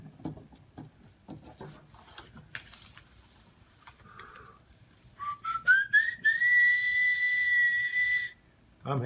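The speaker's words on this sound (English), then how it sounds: "I'm whistling while I work." Soft scissor snips and paper rustles from someone cutting small paper circles for a collage, then a clear, rising tuneful whistle held for a couple of seconds nearby.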